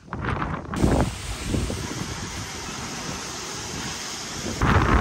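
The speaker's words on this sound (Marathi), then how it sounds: "पाऊस आणि वादळ चालू झाले इथं" A fierce storm batters an open spot in May, with loud roaring gusts buffeting the microphone and steady rain hissing throughout, the wind surging hardest at the start and again near the end.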